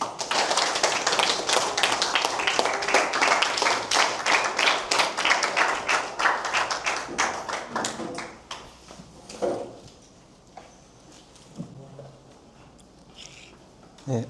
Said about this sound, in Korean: 우리 이수민 강사님 나오실 때 큰 박수 찬양해 주시죠.